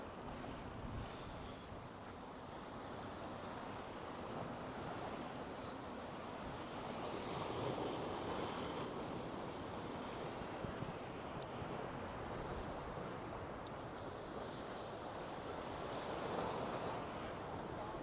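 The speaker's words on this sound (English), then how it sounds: "All right, the wind is strong." Strong wind buffets the microphone on the busy Vancouver seawall on a sunny day. The gusting roar is loud and constant and blends with the wash of surf along the shore.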